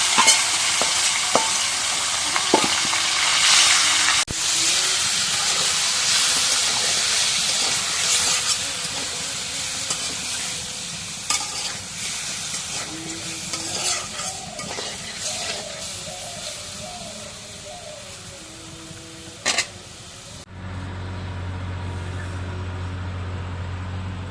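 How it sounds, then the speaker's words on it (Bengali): Broiler chicken meat frying in hot oil gives a loud, steady sizzle and hiss throughout, with occasional stirring clatter, before cutting off abruptly near the end. "এখন এই মাংসটা তেলের মধ্যে দিই"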